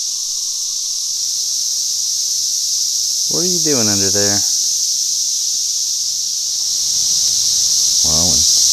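Mating cicadas produce a loud, continuous high-pitched buzzing drone that runs unbroken from start to finish, with a voice speaking briefly over it twice.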